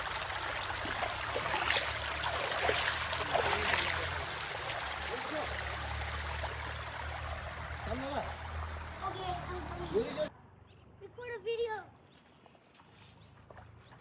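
Stream water flows outdoors in Nepal in a constant rushing wash for about ten seconds, with voices talking over it, before the sound cuts to a quieter scene with brief chirps.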